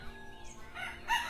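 A rooster crows among village chickens on a winter morning in rural Bengal, a short, moderately distant call rising near the end of the brief clip over faint outdoor background.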